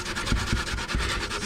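A raw potato is rubbed back and forth on a hand grater, giving rapid, evenly spaced rasping strokes, close and fairly loud.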